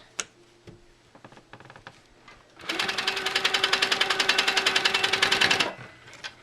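A sewing machine runs in a steady rapid burst for about three seconds, stitching sashing and cornerstones around a star-patterned pillow sham, preceded by a few scattered clicks and light handling noises.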